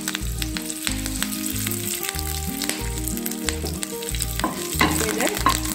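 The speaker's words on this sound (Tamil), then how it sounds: "இப்போ எண்ணெய் சூடானதும் ஒரு டீஸ்பூன் அளவுக்கு நான் இதில் சீரகம் சேர்க்குறேங்க" Cumin seeds, a torn dried red chilli and curry leaves frying in hot oil give a loud, continuous close sizzle with crackles and light stirring scrapes, with a steady low hum beneath and no voices.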